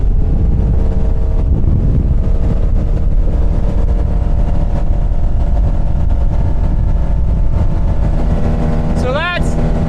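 A 2013 Bayliner 195 boat with a Mercruiser 4.3 engine runs at full throttle, a loud, steady engine drone with water and wind rush, and a brief rising whine near the end.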